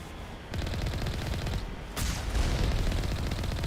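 Gunfire fills a Mass Effect battle. Heavy, continuous volleys of rapid shots come loud and close, growing denser and more intense partway through.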